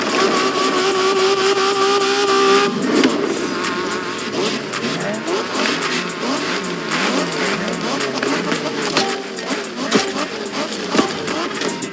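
A car engine revs and roars in The Crew Motorfest racing game during Japanese street racing, a loud, continuous engine drone with rising and falling pitch that follows a short tonal intro.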